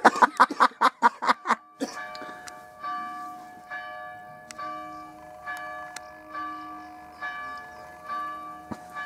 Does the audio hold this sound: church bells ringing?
yes